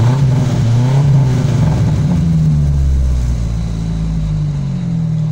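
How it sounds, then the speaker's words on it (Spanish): A 2007 Volkswagen Gol Pointer engine runs steadily close by, a loud continuous mid-low hum with a slight rise and fall in pitch, after its radiator was cleaned and restored. "aquí ya tenemos a nuestro Golito Pointer 2007 trabajando"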